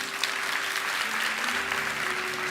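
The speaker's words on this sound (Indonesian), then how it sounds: "Kasih tepuk tangan untuk Tuhan." Applause from a church congregation during a sermon, a steady dense wash of clapping lasting the whole moment, with faint voices and a low hum underneath.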